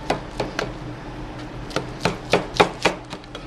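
A knife cuts through Mexican lasagna in a baking dish, giving about a dozen crisp taps against the pan, irregular at first and then quicker, close and clear with no talk.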